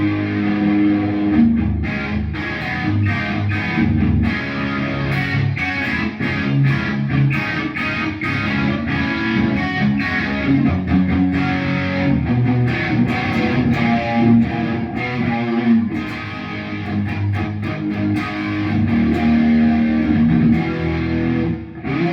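Electric guitar played through a Rocktron Sidewinder pedal set to low distortion, a steady, loud stream of crunchy strummed chords and notes with a continuous sustained tone.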